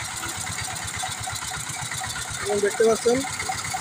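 A maize thresher with a double sieve, built to shell corn still in its husks, runs with a steady mid-pitched mechanical chug. Someone talks over the engine noise.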